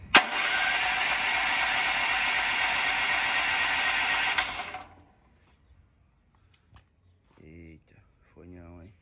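A gasoline engine is being pull-started with one hand, giving a loud, steady mechanical roar for about four and a half seconds before cutting out, followed by quiet and brief speech.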